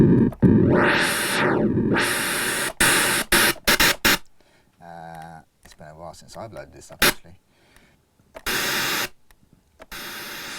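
Bursts of hissing white noise from a synthesizer, one sweeping up and down, alternate with short gaps, clicks and someone talking.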